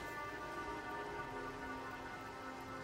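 Steady hail and rain hiss in the Nightingale video game, dense and continuous at an even level with a faint tonal hum beneath, no voices.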